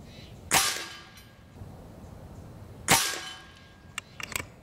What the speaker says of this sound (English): I'm gonna shoot a few more